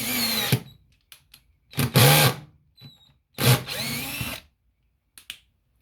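A 12 volt cordless drill driving a screw into wood, in short close bursts of whirring motor separated by pauses, with clicks between runs and the last burst sounding strained.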